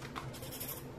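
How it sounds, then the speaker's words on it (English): A colorless blender pencil scribbles rapidly on a clean sheet of paper, making a close, continuous dry scratching with a quick back-and-forth texture. "cleaning your pencil just by scribbling it on a clean piece of paper."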